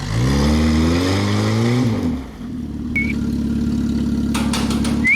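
A car engine revs hard while the car is loaded onto a car trailer, climbing in pitch, then drops to a steady idle, with a couple of short squeaks and taps near the end.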